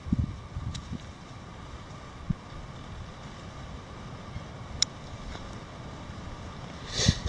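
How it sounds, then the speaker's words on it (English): Wind blowing outdoors at a bushcraft camp, a steady low rushing roar buffeting the microphone throughout, with a few faint knocks and a slightly louder gust near the end, no talking. "The wind's blowing pretty bad today, I'm sure you guys can hear"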